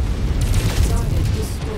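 A tank blows up in MechWarrior 5 Mercenaries, a deep booming explosion with rolling low rumble and crackling debris lasting nearly two seconds, loud and close.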